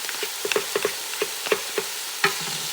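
A spoon stirs a mixture of beef broth and heavy cream in a Ninja Possible Pro cooker, giving a series of soft clinks and swishes at an irregular rhythm, close and moderately quiet with no voices.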